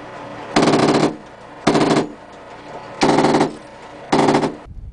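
Four loud bursts of fire from a 7.62 coaxial machine gun during French Foreign Legion combat in Chad, each about half a second long and separated by short pauses, close and harsh.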